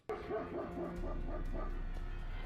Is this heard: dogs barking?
yes